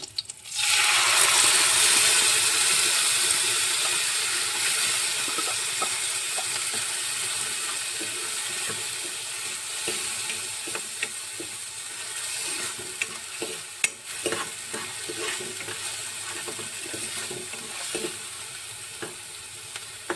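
Ground masala paste hitting hot oil with curry leaves in a pan for a baby potato masala curry, a loud burst of sizzling at first that settles into a steady crackle with scraping stirs.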